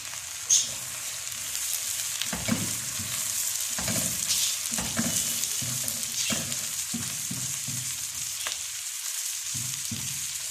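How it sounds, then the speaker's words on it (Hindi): Two medium onions fry in oil in a pan for fish biryani, giving a steady soft sizzle throughout, punctuated by repeated scraping and clinking of a spoon stirring against the pan. "हमने इसमें 2 मीडियम साइज़ के प्याज डाल दिए। हम इसको अच्छे तरीके से फ्राई कर लेंगे।"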